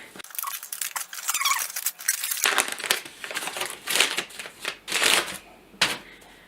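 Pages of a paper book with thick, high-quality stock are flipped and handled up close, giving a continuous crisp rustling and fluttering with irregular sharper riffles throughout.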